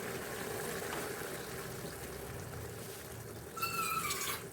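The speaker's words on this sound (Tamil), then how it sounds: "கொஞ்சம் தண்ணி சேர்த்துக்கலாம்." Water is poured into a pan of simmering mushroom gravy: a soft, steady bubbling hiss that turns into a brighter, louder trickle near the end, close by and without voices.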